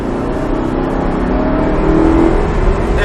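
Audi R8 engine pulling hard at full throttle on the Haute-Saintonge circuit, a steady, loud, rising drone heard from inside the car, with no talk.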